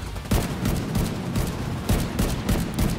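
Gunfire in The Division 2, sustained automatic fire with sharp louder bursts recurring every half second or so, close and heavy, with no speech.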